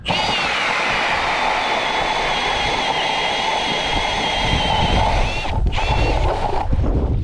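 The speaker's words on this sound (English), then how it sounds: "We're just gonna drill a couple holes" A steady, loud mechanical whine of an electric drill boring holes through lake ice runs continuously for several seconds, with a brief dip and restart near the end.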